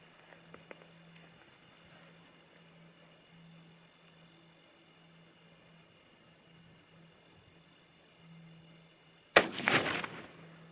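A 300 H&H Magnum rifle fires a single loud, sharp shot near the end, followed by a brief rumbling echo, after a long stretch of quiet outdoor hum.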